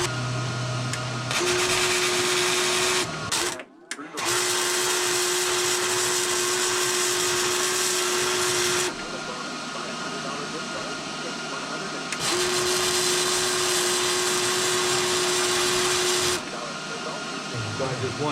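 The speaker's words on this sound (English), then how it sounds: "let's put one right there and then we'll weld it up" Welding a new blade onto a John Deere D6 dozer: long steady buzzing, hissing arc runs broken by brief pauses, loud and close, with no clear talk.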